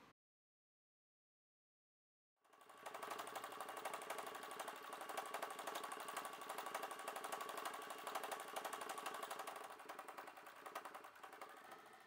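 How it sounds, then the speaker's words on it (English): After a moment of silence, a sewing machine starts and runs continuously doing free motion zigzag stitching for thread sketching, a fast steady mechanical whirr and needle chatter heard close and alone. "done mainly using free motion zigzag stitch, with quite a bit of sideways movement to create many random lines"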